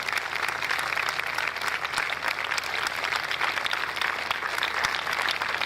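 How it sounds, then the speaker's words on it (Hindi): A church congregation at a Friday healing service applauds loudly and steadily, a dense, continuous wash of clapping from many hands that carries on throughout without pause. "आए दोनों हाथों को मिलाकर खुदा के पाक रूह के लिए, उसकी हज़ूरी के लिए जोरदार तालियां दें।"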